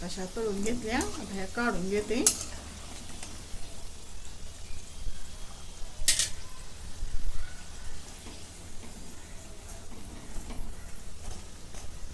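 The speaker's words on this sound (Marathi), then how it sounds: "अशा सगळ्या तळून घेते" Pieces of lativ vadi deep fry in oil. A soft, steady crackling sizzle runs throughout, with a voice briefly heard near the start and a couple of sharp clicks.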